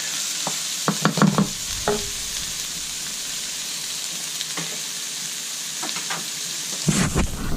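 Garlic cooks in a pan with browned beef and onions for picadillo. A low sizzle runs underneath, with a few clustered clacks of a spoon stirring near the start and again near the end.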